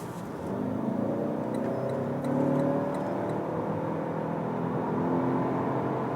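A Lexus ES 300h hybrid sedan accelerates from low speed on a German Autobahn, its engine and road noise rising in a steady drone with climbing tones inside the cabin.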